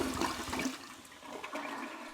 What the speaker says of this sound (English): Instead, we flushed the key further down.